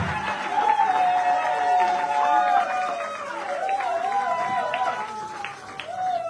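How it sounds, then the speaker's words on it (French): A church congregation claps and cries out with joy at a fasting and prayer service, with sustained applause and shouting plus voices rising over it. "Vous pouvez applaudir pour la gloire du Seigneur. Avec des cris de joie"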